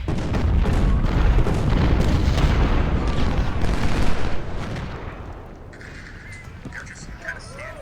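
Dense, continuous gunfire and artillery booms from a Civil War battle in the strategy game Ultimate General: Civil War, at Shiloh, rumbling loudly for about four seconds before easing into quieter distant volleys and scattered shots.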